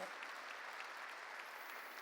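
A church congregation applauds during a service with a dense, even patter of many hands clapping, steady throughout and faint, as if heard from a distance.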